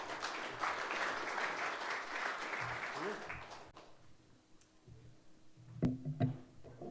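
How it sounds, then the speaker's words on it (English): Audience applause for a speaker being welcomed onto the stage at a technology presentation, broad and steady for about four seconds before fading into quieter room noise with brief voices and a couple of knocks. "please, warm round of applause for Naser as he welcomes to the stage."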